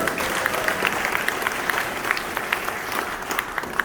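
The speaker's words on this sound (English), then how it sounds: "let us give them a round of applause and lift their spirit" Audience applause at a welcome event for a visiting president in New York, steady crowd clapping with sharp individual claps popping out near the microphone throughout.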